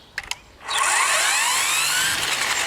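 A battery string trimmer starts up, with a few brief clicks from the safety and trigger, then its motor whirs up quickly into a steady, high, loud whine that holds to the end.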